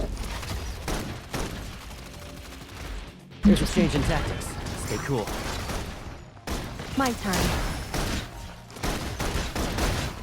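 Suppression gunfire in the video game Love and Deepspace comes as dense bursts and rattling volleys with booming impacts, loud and close, mixed with game dialogue and battle music.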